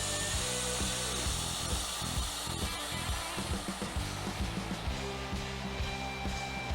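Steady, loud hissing and mechanical whirring as air is let out of a vacuum marinating tumbler holding chicken wings, with a continuous rattling motor-like drone throughout and no voices.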